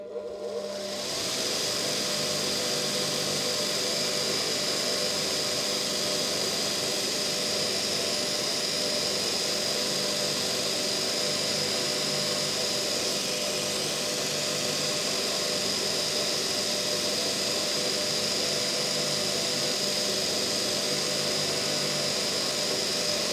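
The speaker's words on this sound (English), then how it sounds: "I'll give them a run on the wire brush to get any crud off them." Screws being cleaned on a spinning wire brush wheel in a workshop, a loud steady motor whine and whirr that holds without a break for the whole stretch.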